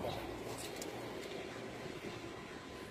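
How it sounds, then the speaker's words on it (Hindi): Rooftop pigeons cooing softly amid steady background noise, low faint coos blending into a continuous hum for a few seconds. "ये कबूतर जी, ये दोनों बहन भाई हैं"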